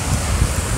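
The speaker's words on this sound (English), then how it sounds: "So today it's high tide at the beach right now. We're gonna see some amazing waves." Ocean waves at high tide with the tide still coming in roar loud and close on a beach, a dense, steady wash mixed with wind buffeting.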